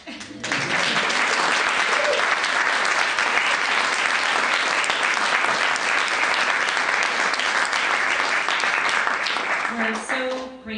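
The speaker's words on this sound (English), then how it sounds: "Round of applause." An audience at a library author event breaks into sustained, dense applause lasting about ten seconds, loud and steady, then tapering with a few stray sounds at the very end.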